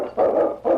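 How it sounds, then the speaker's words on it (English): A sled dog barks outdoors in the Yukon wilderness, giving two short, loud barks close by with a brief pause between them. "I wonder what he's barking at."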